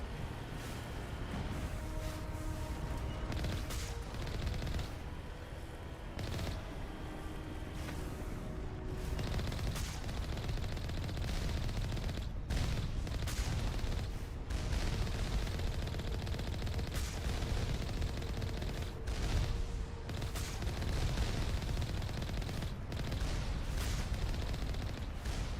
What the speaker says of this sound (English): I should just shoot the turrets at a distance before going on foot.